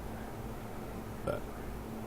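One short, low burp rises briefly out of a quiet indoor background, heard alone with no talking around it.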